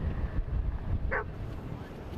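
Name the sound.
dogs barking on a windy beach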